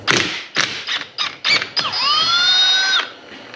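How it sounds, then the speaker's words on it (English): An impact gun with a chrome socket loosens screws on an Arctic Cat ATV engine during teardown, giving a series of short sharp rattling bursts followed by a longer whining run that winds down, close and loud. "I'm using a chrome socket on impact gun"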